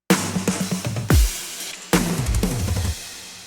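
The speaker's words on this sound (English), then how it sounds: "We have some cool drum fills." Produced rock drum track blending acoustic layers with trap drums, playing loud fills: rapid tom and snare runs with booming low hits and a crash near the middle, no talking.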